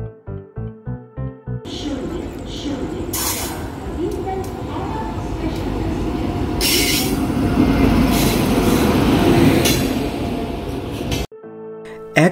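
Kamrup Express passenger train running loud and close, with a heavy rolling rumble and squealing wheels, framed by brief tonal sounds at the start and end.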